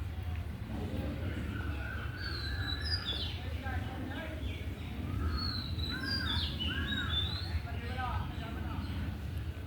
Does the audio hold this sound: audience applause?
no